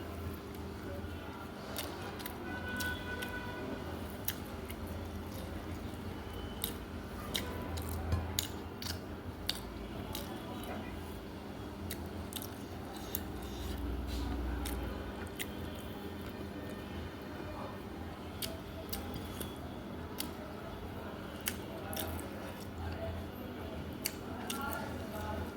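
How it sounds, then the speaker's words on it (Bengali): Someone eats rice with shrimp bharta, a mash of shrimp with green and dried chillies. Soft, close chewing and squishing sounds come with occasional sharp clicks against a steady low background hum. "এখন খাচ্ছি, এটা হচ্ছে চিংড়ি ভর্তা।"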